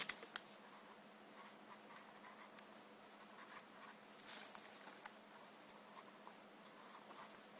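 A pen writing on paper as a plot is sketched out by hand, a faint, steady scratching that runs continuously with small irregular strokes, heard alone without talk.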